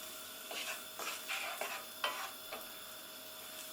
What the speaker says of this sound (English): putting the heat on, a little olive oil, throw in the onions, throw in the olives